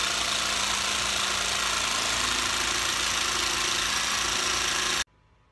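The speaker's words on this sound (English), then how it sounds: "I'm going to be using my jigsaw to get a rough cut for the channel at this point." A jigsaw makes a rough cut for a channel in reclaimed wood for a rustic wine tray. It gives a steady, loud, buzzing motor drone for about five seconds, then stops abruptly.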